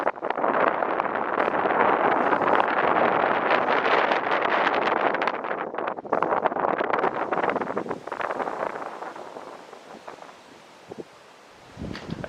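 Strong wind gusts buffet a steep, railing-less spot at a historical colliery, roaring broadband against the microphone for most of the stretch before easing toward the end.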